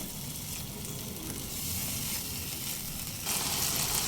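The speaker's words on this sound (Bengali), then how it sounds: "মিক্সিং জার ধুয়ে অল্প একটু জল দিলাম, দিয়ে 2 থেকে আড়াই মিনিট মিডিয়াম ফ্লেমে নেড়ে চেড়ে কষিয়ে নেব।" Cashew and tomato paste sizzles and fries steadily in a pan over medium flame while being stirred, a continuous close hiss that swells slightly louder near the end, no voices.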